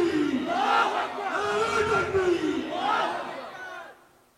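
A large crowd shouts "Allahu Akbar" in unison in response to a takbir call at a religious gathering, a loud, sustained chant of many voices rising and falling over a few seconds before fading.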